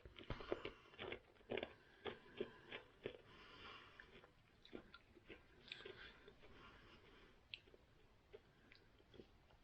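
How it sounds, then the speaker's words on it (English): Someone crunching Imperial mints close up, with a run of sharp, irregular crunches and bites over several seconds, fading to softer chewing and occasional sniffs toward the end, no talking. "I keep on crunching mints."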